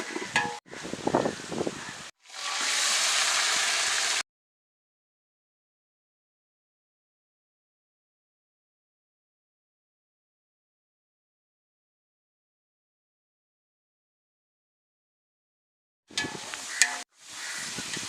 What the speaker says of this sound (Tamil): நல்லா பொன்னிறமா வதக்கிக்கோங்க.